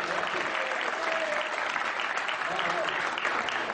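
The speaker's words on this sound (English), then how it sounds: "Give him a round of applause." Dense, even applause from an audience cheering a young boy brought forward at a live show, sustained throughout with murmured voices blended into the clapping.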